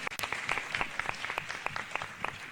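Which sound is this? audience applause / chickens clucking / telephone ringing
audience applause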